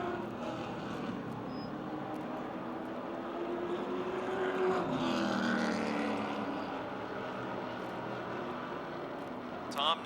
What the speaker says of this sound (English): close racing out of turn 4 again between Knight and Blank